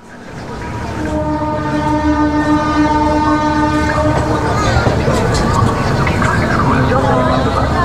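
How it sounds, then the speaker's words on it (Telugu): Double-decker passenger train pulling into Nellore station, opening with a long, loud tonal horn blast that gives way to heavy rolling rumble and clatter, with voices audible in the background. "ఇప్పుడే మనం వెళ్ళాల్సిన ట్రైన్ అయితే వచ్చింది, డబుల్ డెక్కర్ ట్రైన్"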